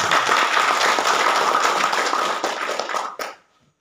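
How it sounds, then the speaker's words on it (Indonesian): Audience applause at a journalists' association orientation event on Kampa Beach, Wawonii, a dense, steady crowd clapping that holds loud for about three seconds before tapering off quickly into silence. "Saya minta kita tepuk tangan sekalian."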